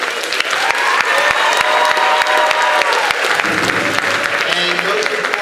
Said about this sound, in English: Ree Shivers, let's give a nice round of applause